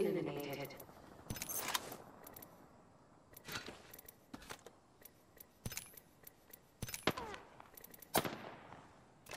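Gunfire crackles in the battle royale game Apex Legends: scattered sharp shots and short bursts at varying distances, some loud and near, mixed with a voice speaking throughout.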